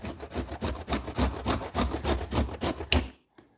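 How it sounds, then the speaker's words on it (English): Fresh ginger rasps against a grater in quick, steady back-and-forth strokes, about a dozen close scraping passes in a row, ending abruptly in near silence. "Or grate your ginger."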